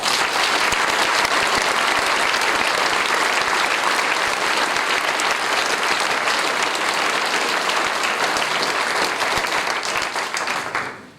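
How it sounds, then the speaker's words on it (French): Sustained audience applause at a Nouveau Front Populaire political meeting, a crowd clapping loudly and evenly for several seconds before tapering off. "je voudrais que vous l'applaudissiez"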